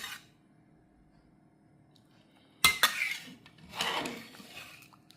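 Veal curry for blanquette de veau being stirred in a pot: quiet at first, then a sudden sharp clatter of a utensil against the pot followed by a second burst of scraping and clinking, close by with no talk.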